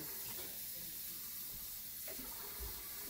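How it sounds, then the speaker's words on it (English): Water added to a hot skillet gives a steady hiss and rushing sizzle that holds throughout at moderate level, with faint clatter near the end. "I am going to hit this skillet with some water"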